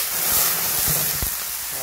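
Bean sprouts with rice wine, chicken powder and oyster sauce stir-fry in a pan, giving a steady close sizzle broken by a few soft clinks and stirring knocks, with no talking.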